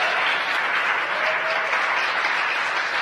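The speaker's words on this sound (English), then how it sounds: "You hear the applause here in Hawthorne." Sustained applause from a large crowd in Hawthorne after a SpaceX Crew-1 launch reaches orbit, steady and dense clapping throughout with no break.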